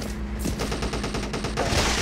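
Rapid, continuous gunfire from the vehicular combat shooter Wasteland Angel, a steady dense barrage of shots filling the whole moment at loud, close range with no talking.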